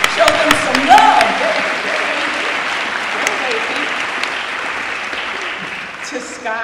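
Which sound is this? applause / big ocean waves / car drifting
applause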